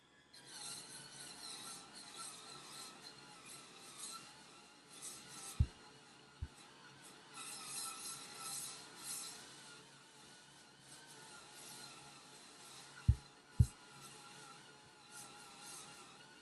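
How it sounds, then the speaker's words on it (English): Quiet, continuous scrubbing of a cordless electric spin scrubber on dirty bathroom tile and grout, broken by a few sharp knocks of the brush head. "And now we can use the scrubber."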